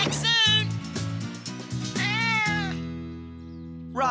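A cartoon cat meows during a rescue scene, two drawn-out, high, wavering mews ringing out clearly over a sustained musical backing.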